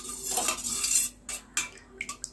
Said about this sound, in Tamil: இப்போது ஷாம்பு சேர்த்ததுக்கப்புறமா இதை வந்து நல்லா இப்போ மிக்ஸ் பண்ணி கொடுத்துக்கோங்க.